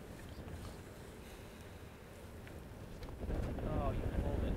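Wind gusting across an outdoor disc golf course during a tournament round, a steady low rumble of wind buffeting the microphone that swells louder near the end.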